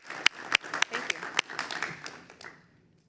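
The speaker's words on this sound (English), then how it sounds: "let's give her a round of applause" Applause breaks out at a school board meeting, opening with a few sharp separate claps that swell into a brief burst of clapping and then taper off to quiet within about three seconds.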